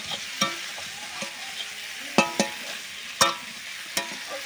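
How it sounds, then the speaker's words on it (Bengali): Prawn and cauliflower curry being stirred and sautéed in a pan: a steady soft sizzle with sharp, irregular clacks of a spoon scraping the pan, close and alone without speech. "1 থেকে 2-3 মিনিট অবধি কষে নেবো ভালো করে"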